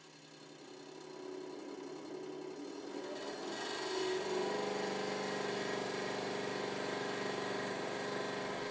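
A hydraulic press forces water through a 0.4 mm nozzle, a rising grinding whine building over several seconds into a loud, steady, strained hiss and drone.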